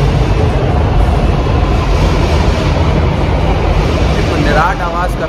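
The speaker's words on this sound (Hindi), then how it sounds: "एक निराट आवाज़ करती है जब मेट्रो जब चलती है तो।" A metro train rushing past near Jama Masjid, a loud, steady, broadband roar that fills the whole span with little variation, with a faint voice mixed in.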